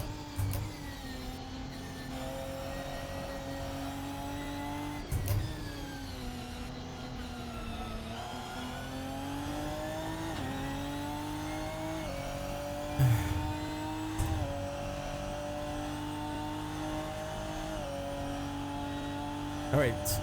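Ginetta G55 GT4 race car engine in the Assetto Corsa racing sim at Road Atlanta, a steady droning drone with rising and falling pitch through shifts, heard continuously under someone talking.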